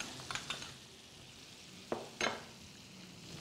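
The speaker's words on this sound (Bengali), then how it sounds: "এটা ভাজা হতে থাকুক" Food sizzles in a pan with a soft continuous hiss, broken by a few close scraping stirs and clinks of a utensil against the pan.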